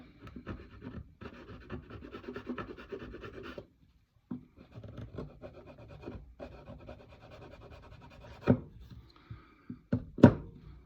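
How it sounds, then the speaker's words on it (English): A hand tool gently scrapes inside a small crevice of a wooden coaster in soft, repeated rasping strokes, with a brief pause and a few light knocks near the end. "I'm just going to gently scrape that away, because sanding in that little crevice is a bit tricky."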